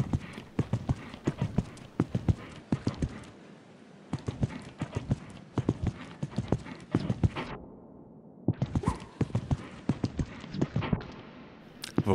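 A horse canters through a show jumping course, hooves thudding in a steady rhythmic beat, fairly close, with a short lull midway before the footfalls resume.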